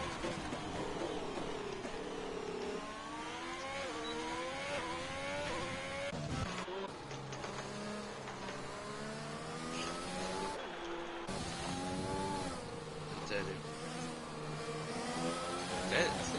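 Engine of an F1 2020 race car in the video game at the Hungary circuit: a continuous high-pitched whine that rises and falls through repeated gear shifts, with brief tire squeal, under commentary.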